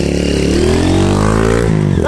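A motorcycle engine idles and revs close by, a loud steady drone that rises in pitch over a couple of seconds and then drops, with voices at a rodeo-style chase outdoors.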